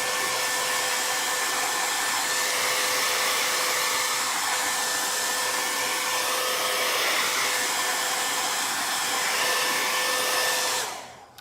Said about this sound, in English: let's dry it just a couple more places.